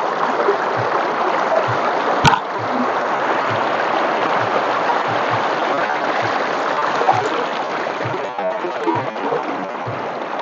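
Clear, shallow river water runs steadily at Macapio Place River in Madalag, Aklan, a close, dense rushing wash that fills the whole stretch, broken once by a sharp knock partway through.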